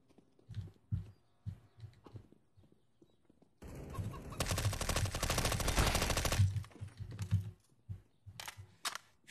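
A burst of sustained automatic gunfire from Counter-Strike: Global Offensive rings out loud and continuous for about three seconds, framed by sparse single shots and clicking game sounds before and after.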